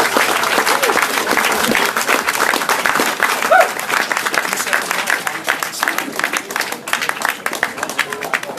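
An audience claps loudly and steadily for a performer named Bob at a live show, broadband applause sustained throughout, with a few voices mixed in.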